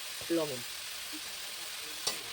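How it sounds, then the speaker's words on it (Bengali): Radish greens fry in a pan with turmeric powder, giving a soft, steady hiss of sizzling, with a short burst of speech near the start. "এবার মূলোর শাকটা আমি ভেজে নেব। এবার আমি দিয়ে দেবো একটু হলুদ গুঁড়ো"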